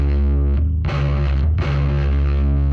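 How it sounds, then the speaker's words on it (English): A thick, heavily distorted bass guitar tone from a power amp with its gain cranked high, loud sustained notes ringing out in two long held chunks with brief breaks, no talking. "just kept cranking up that power amp gain until I got the level of distortion or gain"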